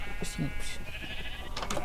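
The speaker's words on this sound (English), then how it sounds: "This is where I keep the sheep." Sheep in a Minecraft pen bleat in short nasal bursts, two or three quick calls spaced across the moment, close and clear over a faint steady background hum.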